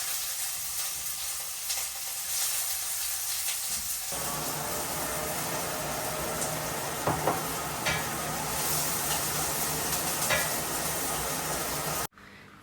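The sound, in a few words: dried chilies, bay leaves, cumin and onion frying in oil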